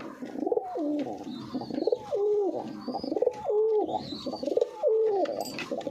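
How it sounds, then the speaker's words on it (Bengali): Male and female pigeons coo close by in a steady run of four or five rolling, throaty phrases that rise and dip, with faint chirps above and no voices. "এটা নর পায়রা, এটা নর পায়রা, ওটা মাদি পায়রা"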